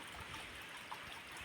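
Water runs steadily through an irrigation channel as a faint, continuous trickling wash with no voices.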